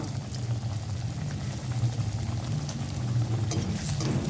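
Soybean cutlets frying in hot mustard oil, a steady bubbling sizzle that holds evenly throughout, close and continuous with no voices.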